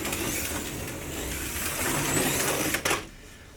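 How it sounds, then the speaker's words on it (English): An NSR Porsche 917K Gulf slot car with an NSR 20k motor whirs around the track in a high, buzzing electric whine that holds steady, then cuts off sharply near the end. "The NSR 20k motor that these have is a powerful little motor"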